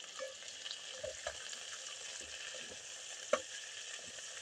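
A paste of ginger, cumin, garlic and onion being stirred in a rice cooker, heard as a soft, low sizzle with light scraping taps and one sharp clink near the end, no talk.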